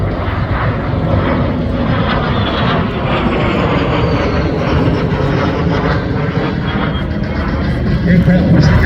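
A Cessna A-37B Dragonfly jet passes at a Central Coast airshow with a loud, steady roar that fills the whole stretch and swells slightly toward the end.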